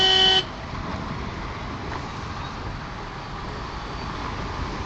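A short car horn toots at the start of a motorbike ride on a potholed road to Godabandar, then a steady rumble of engine and traffic noise carries on evenly.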